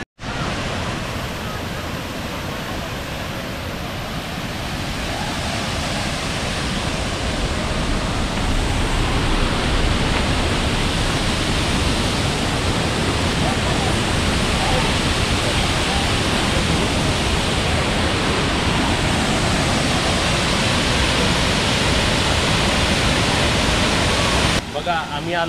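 Water pours over a waterfall in a steady, loud, close rushing roar that swells slightly and holds constant throughout.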